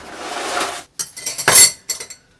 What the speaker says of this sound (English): And let's get some ice.